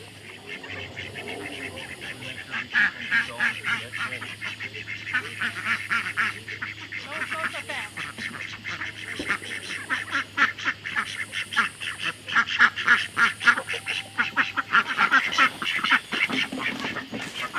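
A flock of farm ducks quacks and honks continuously at dusk as they are rounded up, the calls rising in volume and density near the end, with a low steady hum underneath.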